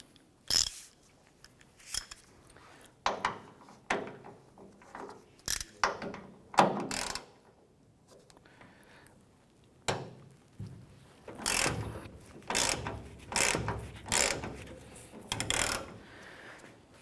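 A hand ratchet loosens a Torx bolt on a Ford Ranger tailgate hinge, a series of rapid clicking bursts separated by short pauses, close and crisp.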